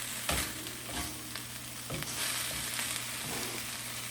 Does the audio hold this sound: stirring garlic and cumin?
yes